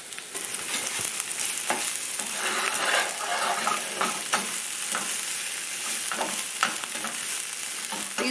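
Onions seasoned with chili powder sizzle steadily in a pan for brunch Mexican eggs and sausage, a close, even frying hiss broken by frequent utensil scrapes and small clicks.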